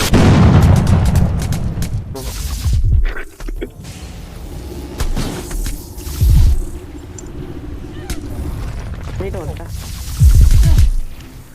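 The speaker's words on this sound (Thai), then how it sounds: "ทำไมเสียงแบบตุ๊บตุ๊บุบวะยิงแต่ละทีตุบตุบ" Heavy thudding shots boom out at intervals in the Roblox game Marvel Omega, loud and close, with a person talking between and over the blasts.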